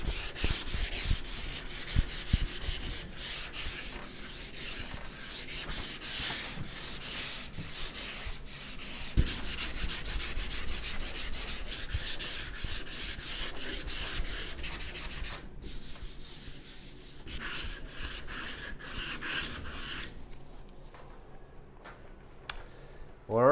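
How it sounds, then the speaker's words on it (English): Body of a 1967 Ford F250 Camper Special sanded by hand, steady rasping strokes close up for a long stretch, slowing and thinning toward the end with brief pauses. "I'm going to try to sand down all of this up here"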